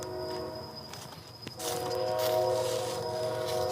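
A train running on a nearby track beside a wooded backyard at night, a steady rumble that swells in the second half, with a sustained horn-like tone held throughout.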